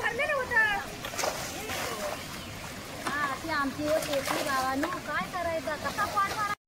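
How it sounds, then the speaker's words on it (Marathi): Women bail water from a stream by hand for rice planting in a dry field, making repeated splashes and sloshing pours under near-constant talk and chatter nearby. "पुन्हा पाणी उपसतायत आता"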